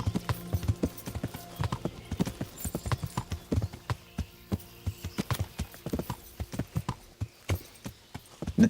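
A horse's hooves clip-clop steadily in a video game, a close, rhythmic run of sharp knocks with faint game music beneath and no talking.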